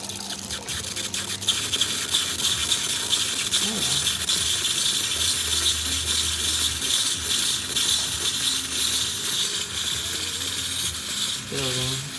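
An Isomac espresso machine heats up and builds pressure, giving a steady hiss of steam with faint gurgles and drips close by, while a person talks over it at times.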